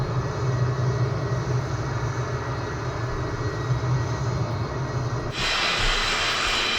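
Vautour IIN jet aircraft in Microsoft Flight Simulator gives off a steady, loud engine roar that holds even for several seconds, then shifts abruptly to a brighter, hissier thrust tone near the end.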